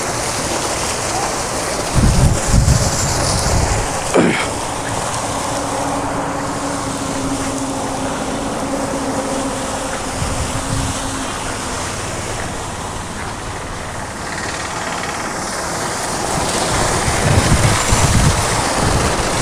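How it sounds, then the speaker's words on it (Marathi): A Kosol 3 HP solar pump with a 30-metre head runs under a fully cloudy sky, sending out a steady, loud rush of pumped water that stays continuous and close for the whole stretch. "तर अशा पद्धतीत हा पाणी मारतो ढगाळ वातावरणामध्ये."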